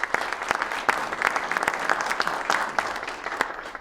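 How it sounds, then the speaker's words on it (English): Audience at a conference event applauding event sponsors, a dense sustained round of clapping from a crowd, steady and fairly loud throughout. "Give them a big round of applause"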